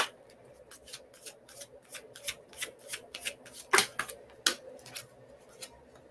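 Psychic Oracle deck cards being shuffled by hand, a quick series of crisp riffling snaps and soft slaps in an uneven rhythm, close and moderately loud.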